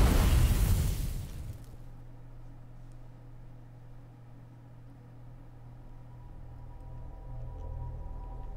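A big explosion in the Outer Wilds video game, a loud broadband blast that fades over about a second into a low steady rumbling drone that lingers.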